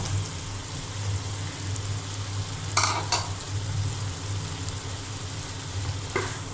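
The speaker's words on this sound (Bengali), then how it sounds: "আমি এখন কেটে রাখা লাউ আর আলু দিয়ে দেব।" Cut bottle gourd and potato go into a pan of frying prawns. A steady, close sizzle runs throughout, broken by a few brisk stirring scrapes.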